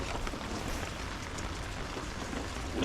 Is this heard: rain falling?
yes